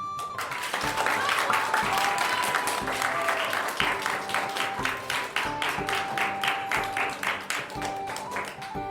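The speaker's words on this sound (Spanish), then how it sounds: "Aplauso de primero A." A school class claps steadily and enthusiastically, the applause holding at even volume throughout with rhythmic patting toward the end.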